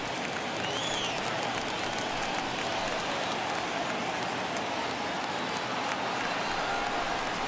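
Steady stadium crowd roar from a baseball video game, MLB The Show 21, with a Dodgers vs. Rangers crowd of over 39,000 on their feet, a dense continuous cheer and hubbub at even loudness throughout.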